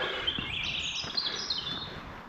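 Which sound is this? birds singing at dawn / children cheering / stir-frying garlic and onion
birds singing at dawn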